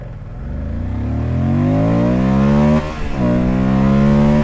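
A 2024 Moto Guzzi Stelvio motorcycle launches hard, its loud, close engine climbing steadily in pitch. There is a brief dip, like a gear change, before it pulls strongly again.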